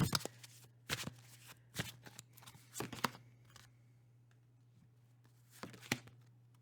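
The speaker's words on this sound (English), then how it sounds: "I'm going to draw a couple of cards from the aha oracle to see what else in terms of advice you" Oracle cards being shuffled and drawn, several crisp riffling bursts spaced apart, close and fairly quiet over a low steady hum, with no speech.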